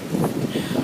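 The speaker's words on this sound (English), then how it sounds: "Holy shit, it is windy." Gusts of strong wind from an approaching storm strike a porch, coming in uneven surges that rise and fall over less than a second, loud and close to the microphone.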